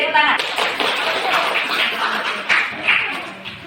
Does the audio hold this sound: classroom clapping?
yes